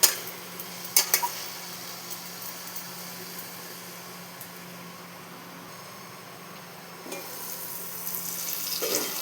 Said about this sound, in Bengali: মশলাটা ভালো মতো কষানো হয়ে গেছে